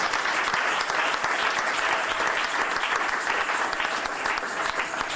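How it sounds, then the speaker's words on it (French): A church congregation breaks into loud, sustained applause, a dense wash of clapping hands that fills the room steadily for several seconds with no pause. "Acclamez très fort le succès."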